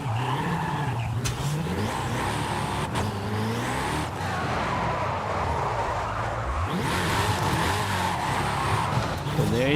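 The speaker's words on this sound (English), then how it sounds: "let me drift using the Venom real quick" In Forza Horizon 5, the Hennessey Venom drifts with a revving engine and sustained tire squeal, the engine pitch climbing and dropping through the slides, loud and continuous; a voice speaks faintly at moments.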